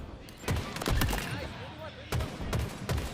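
Video game match at a college homecoming esports event, with rapid bursts of gunfire in two clusters separated by a brief lull, heard amid crowd and commentary noise.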